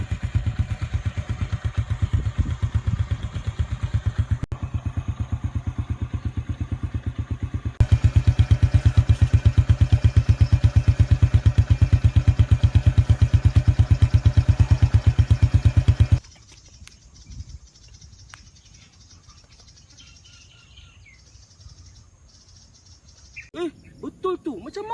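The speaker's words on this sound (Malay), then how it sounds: "Tu bukan motosikal ke? Kenapa dibiarkan hidup?" A motorcycle engine left idling in a forest throbs steadily and loudly for about fifteen seconds, then cuts out. Insects and faint rustling are all that remain after, with a little noise returning at the end.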